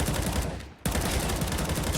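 Counter-Strike match at a professional tournament, with dense rapid gunfire and crackling shots filling the clip, cut by a brief drop and then resuming at full intensity.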